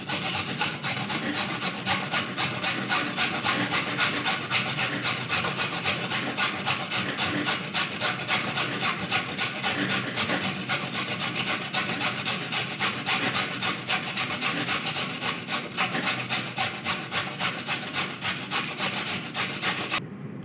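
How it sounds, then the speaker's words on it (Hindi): Carrots are grated by hand for gajar ka halwa, giving a continuous, close scraping rasp that keeps an even rhythm of repeated strokes for the whole stretch, with no talking. "तो अब हम गाजरों का कद्दूकस करेंगे।"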